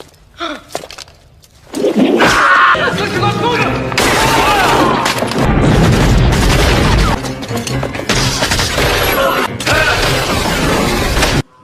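Gunfight and explosions from a Rambo film: dense bursts of gunfire, booms and crashing debris roar loud and continuous after a quieter opening, with brief gaps between volleys.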